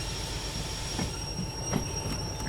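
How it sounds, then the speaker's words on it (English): A train braking in the Derail Valley simulator, with a DH4 locomotive hauling an 856-ton harbor load: a steady rolling rumble with faint metallic squeals and clicks, moderately quiet and continuous, with no voices. "Well, we'll put on a little train brake"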